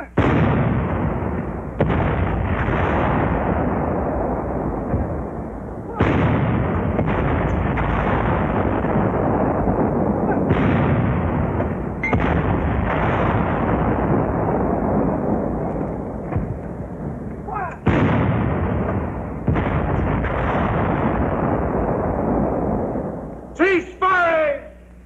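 Close, loud heavy shots from a WWII infantry weapon pounding a four-foot-thick concrete roadblock, a string of booming blasts a few seconds apart, each with a long rumbling decay, under a narrator's voice.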